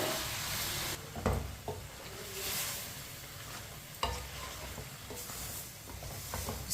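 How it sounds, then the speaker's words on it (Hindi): Meat for an Eid gosht dish is stirred and fried with a spoon, with repeated scraping strokes over a continuous loud sizzle and sharp clanks as the spoon hits the pan. "अब इसे चम्मच लाते हुए 5 मिनट के लिए भून लेंगे"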